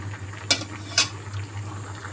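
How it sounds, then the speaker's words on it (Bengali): Boiled noodles for chow mein being stirred in a pot, with two sharp clinks of the utensil against the pot about half a second apart over a low, steady background hum. "আমি সুন্দরভাবে নাড়াচাড়া করে দিছি যেন একটার সাথে একটা গা গিয়ে না লেগে থাকে।"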